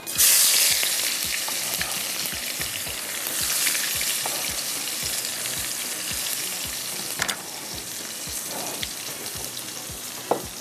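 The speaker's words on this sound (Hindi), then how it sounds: "इसके अंदर जाएगी प्याज" Onions sizzling loudly in hot oil in a karahi, a constant bright hiss broken by repeated scraping and knocking of a spatula against the pan.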